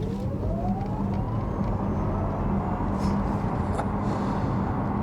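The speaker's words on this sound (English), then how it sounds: "have a listen here, some full throttle and no augmented sport sound" An electric car accelerating at full throttle with its augmented sport sound switched off: a thin motor whine climbs steadily in pitch over a constant rumble of road and wind noise.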